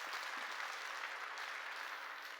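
Church congregation at a Korean service applauding, a brief, soft, even patter of many hands that continues unbroken.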